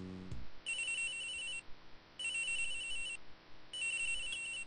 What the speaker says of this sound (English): Did you just recognize the ringtone?